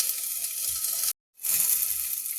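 Potatoes frying in oil for aloo matar, a steady close sizzle that cuts out for a moment midway and then returns at the same level.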